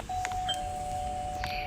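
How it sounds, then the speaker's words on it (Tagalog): A doorbell gives a single sustained electronic tone that rings steadily for well over a second. It is heard indoors at night over faint background clatter. "Huwag mo sirain yung doorbell ko."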